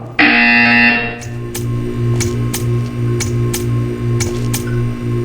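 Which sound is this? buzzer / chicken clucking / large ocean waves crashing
buzzer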